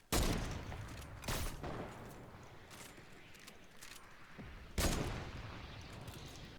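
Gunfire and rocket blasts in a video game, heavy booming bursts with rattling shots between them, a few loud impacts spread across the clip beneath faint background chatter.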